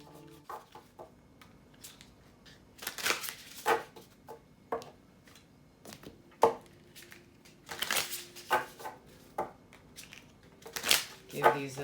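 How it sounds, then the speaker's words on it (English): A deck of oracle cards is shuffled, producing repeated crisp riffling bursts at irregular intervals, fairly close and moderately loud, with quiet stretches between them. "Give these a shuffle and let's get our message."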